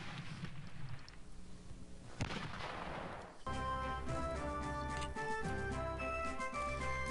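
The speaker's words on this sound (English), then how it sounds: "Going to shoot you, and this one's going to do a lot of damage because it has high firepower." Gunfire from a unit shooting in the strategy video game Civil War Generals 2, sounding as a sharp crack with a rumbling burst near two seconds, then giving way to a steady, dense stretch of game sound.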